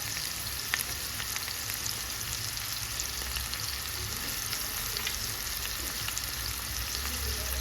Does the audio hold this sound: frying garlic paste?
yes